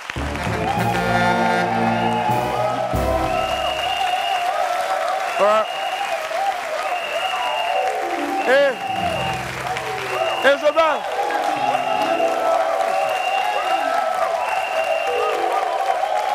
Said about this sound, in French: je vais vous demander d'applaudir très fort s'il vous plaît pour Sanya